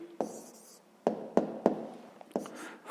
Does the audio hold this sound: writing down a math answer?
yes